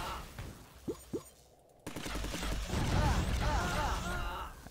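Explosions and gunfire in the robot battle video game Robowars: two short blasts early, then a sudden burst into sustained rumbling explosions and rapid firing that stays loud to the end.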